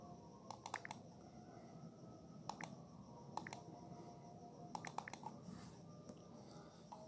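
An OTP is typed on a computer keyboard, several short bursts of crisp key clicks separated by pauses, close and fairly quiet over a low room hum.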